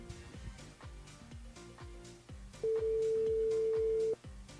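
A telephone line tone heard during a phone call on a radio broadcast, a repeating beep pattern with a long steady tone held for over a second, fairly faint and without talk.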